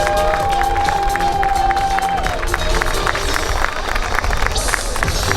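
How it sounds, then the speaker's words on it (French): A crowd at a triathlon prize-giving claps and cheers for the winning athletes, loud sustained applause with a murmur of voices underneath, close and continuous throughout. "on peut les applaudir encore une fois"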